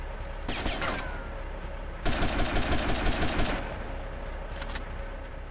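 Gunfire in GTA Vice City: two dense bursts of rapid automatic shots, one early and a longer, louder one in the middle, then a brief spatter of further shots near the end, all loud and close.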